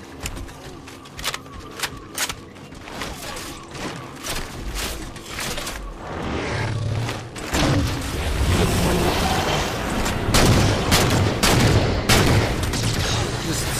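Rapid bursts of DMR rifle fire in the Halo 4 shooter game, repeated sharp cracks through the first seconds, then denser overlapping gunfire and explosions building louder in the second half of a frantic battle.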